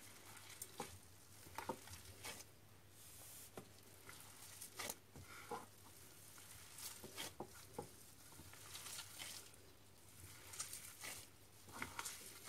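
Basterma mixture made with oats frying in a pan while being stirred: a continuous sizzle and patter broken by repeated scraping strokes of the spoon, steady and fairly quiet, with no talking.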